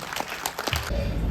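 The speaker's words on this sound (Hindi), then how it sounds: "तालियां बजाइए एक बार जोरदार।" An audience at the Nalanda Literature Festival breaks into applause, a brief burst of clapping from a crowd that follows a few spoken words.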